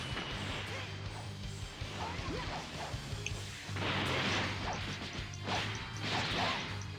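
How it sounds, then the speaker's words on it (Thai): Explosions and energy blasts in the video game Dragon Ball Xenoverse 2, a busy run of crashing bursts and whooshing strikes with several louder booming surges, heard close behind faint background voice. "นี่ระเบิด"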